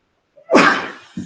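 A single close, forceful sneeze rings out in a quiet board meeting room, with a short breathy tail and a small sound right after.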